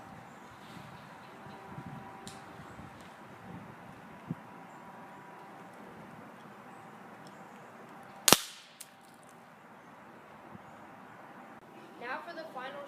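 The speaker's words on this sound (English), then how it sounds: "Now for the final shot with the Gamo Magnum." A Gamo Magnum pump air rifle fires a .177 Red Fire pellet, giving one sharp, loud crack about two-thirds through, with a brief tail and a quiet, breezy outdoor background on either side.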